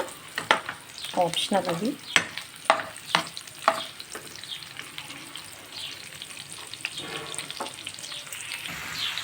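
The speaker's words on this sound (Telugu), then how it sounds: "ఈ ఆనియన్ బాగా ఫ్రై చేసేసుకొని 2 చిల్లీస్ కూడా వేసాను" Onions and green chillies fry in a pan with a continuous sizzle. Irregular stirring scrapes and clinks are loud at first and then ease, and a voice speaks briefly over the frying.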